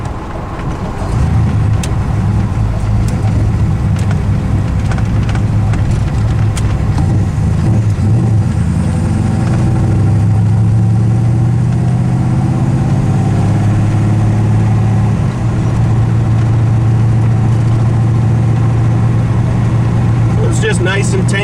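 A custom Chevy Monte Carlo with a 535 hp V8, AFR cylinder heads and an aggressive camshaft cruises at a steady 1700 RPM, its deep low rumble loud and continuous throughout, with a faint clatter near the end.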